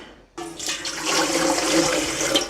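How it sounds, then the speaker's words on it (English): Kitchen tap water runs into a cooking pot for boiling, starting abruptly and then gushing in a steady, close, full stream with no talking. "I'm gonna get some water"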